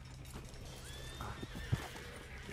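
A horse whinnies in Red Dead Redemption 2, a short neigh over soft hoof thuds and a quiet background rumble, with one sharp knock near the end.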